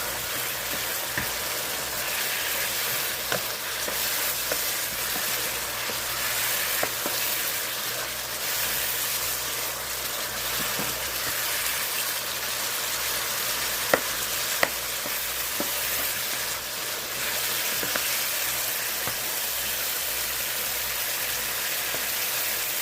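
Pineapple juice sizzling steadily as it cooks down in a pan with pineapple, a continuous close frying hiss with occasional faint stirring clicks and pops, no voices.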